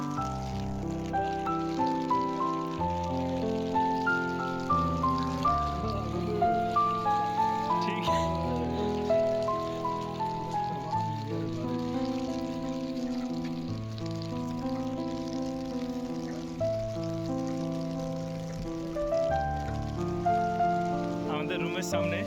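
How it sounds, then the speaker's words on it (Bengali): Heavy night rain in Saudi Arabia patters steadily on surfaces throughout, a constant wash of drops beneath people talking. "কিরকম সুন্দর বৃষ্টি পড়ছে"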